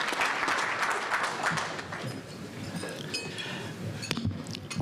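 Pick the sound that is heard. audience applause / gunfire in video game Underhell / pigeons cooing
audience applause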